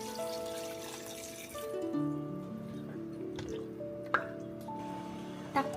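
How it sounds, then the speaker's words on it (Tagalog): Water is poured into a pot of chicken cooking on a home stove, a short run of liquid splashing and dripping that stands out over faint tonal background sounds, with a few small clinks near the end. "Lagyan na natin ng tubig."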